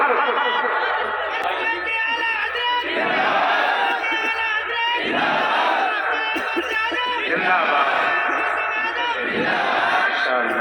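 A large crowd at a religious gathering chants and shouts slogans together, loud massed voices rising and falling in repeated waves with a steady low hum beneath.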